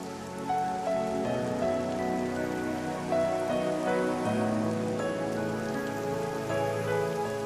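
Steady rain pours in a movie scene, a dense, constant hiss of drops on surfaces, with music tones running faintly beneath it.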